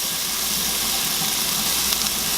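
Mushrooms sautéing in a pan while cooking a chicken stew, giving a steady, close, even sizzle and hiss with no talk.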